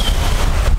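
Steady broadband wind rush buffeting the microphone aboard a sailboat under mainsail, jib and genoa in about 18 knots of wind on the Mediterranean, with low rumbling gusts and faint water noise throughout.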